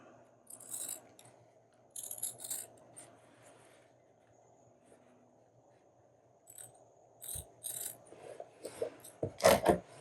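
Scissors snipping a red paper section off for a coin envelope tab book, a few short crisp cuts and rustles close by, separated by quiet handling with a faint steady hum underneath.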